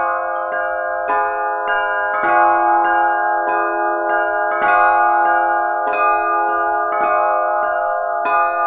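Small church bells ringing, struck in a steady rhythmic pattern of clear, resonant tones roughly twice per second, each strike ringing on and overlapping the next, close and alone without voices.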